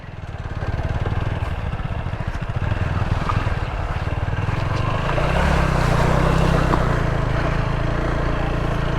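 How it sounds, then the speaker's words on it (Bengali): A motorbike rides down through water on the road to Bichanakandi, a loud steady engine drone with churning, splashing wash running throughout and swelling slightly toward the end. "এখন আমরা এই পানি দিয়ে নামতেছি"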